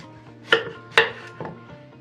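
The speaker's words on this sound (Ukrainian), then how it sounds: "І буду різати салеру." Knife chopping celery on a cutting board in a home kitchen: three separate sharp, fairly close cuts spaced about half a second apart over faint background hum, with no talking.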